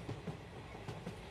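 Running train sound effect behind narration in a Bangla thriller audiobook: a steady low rumble with rhythmic clickety-clack of wheels over rail joints, faint and continuous with no speech.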